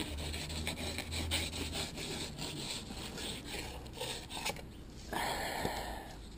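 Knife working back and forth between a dogfish fillet and its skin, a soft repeated rasping and rubbing close by, steady strokes with a brief scrape near the end.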